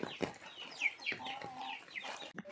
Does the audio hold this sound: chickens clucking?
yes